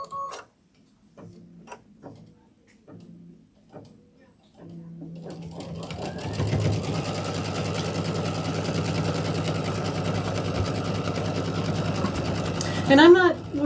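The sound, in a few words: sewing machine stitching a quilt fabric placement line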